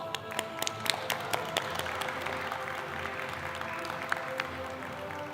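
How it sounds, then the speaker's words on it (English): Scattered, fairly sparse applause from a conference audience thanking a panel at a regional tourism event on women's empowerment, individual claps standing out, moderately distant and continuous for several seconds with a faint murmur beneath. "Can we have a round of applause?"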